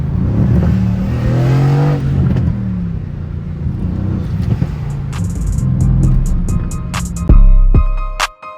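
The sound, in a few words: Mercedes 63 car engine revving in race mode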